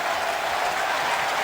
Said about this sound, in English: The crowd loving it on a Saturday night at the Joe.